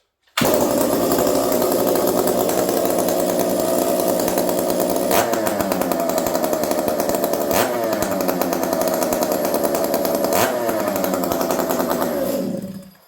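A Stihl MS460 chainsaw engine starts up and runs loudly and continuously, with a few brief blips in the idle, then cuts off at the end.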